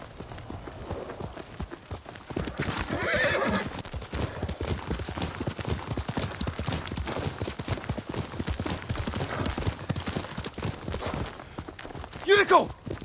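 Horse hooves clip-clop steadily through Ghost of Tsushima as Yuriko's horse walks near, with a game voice speaking partway and a sharp whinny rising near the end.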